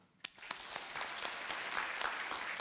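A church congregation applauds during a Korean Sunday worship service. A few sharp early claps grow into steady, moderately close applause that continues to the end.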